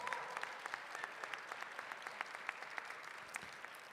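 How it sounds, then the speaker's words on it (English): A university audience claps at an official opening ceremony, a steady, fairly faint patter of many hands holding evenly throughout with no voices over it. "clap for yourselves."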